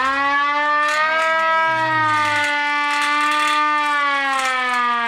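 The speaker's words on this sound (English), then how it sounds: "Do you have any sirens?" A loud, steady wailing siren holds a sustained rising and falling tone throughout, alone and continuous.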